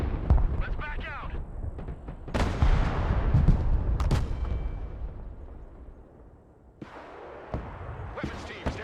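Mortar and artillery fire in the military strategy game Broken Arrow, with heavy booming blasts and sharp reports, several rumbling impacts in close succession, alongside spoken radio-style voice lines.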